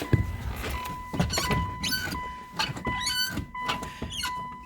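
A car interior with a motor whirring and repeated high-pitched squeaks, needing lubrication, chirping over a steady hum, close by.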